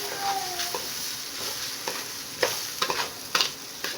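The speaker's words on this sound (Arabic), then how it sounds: "الرز لازم ايه يتحمر كده شويه كده، يتقلب حبه حلوين عشان يبقى طالع مفلفل" Rice with vermicelli sizzling and frying in a pan while a spoon stirs it, close and fairly loud, with scattered scrapes and clicks over the steady fry.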